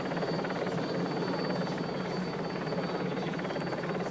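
A helicopter hovers over the 1993 Paris-Roubaix cycling race, and its rotor chop makes a steady, dense drone that holds for the whole stretch with no voices over it.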